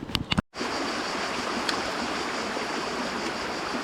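A river in the Drôme at a fishing spot runs with steady, broadband rushing water, close and continuous after a brief bump and a moment of silence at the start.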